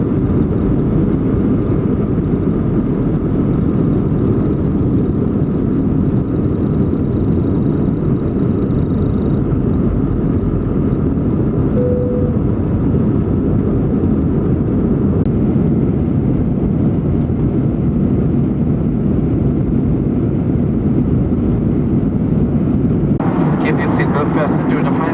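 Loud, steady low roar of an airliner cabin on a TACA Peru flight, broad engine and air rumble filling the whole span while a cabin announcement voice speaks over it.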